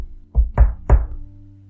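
Three firm knocks on a wooden door, quick and close, during a tabletop role-playing game session, followed by a short moment of room tone.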